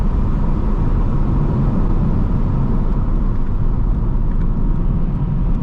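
A 2021 Audi TT RS in sport mode with exhaust valves open delivers a loud, steady engine and exhaust grunt, a deep continuous rumble heard from inside the car on a country lane.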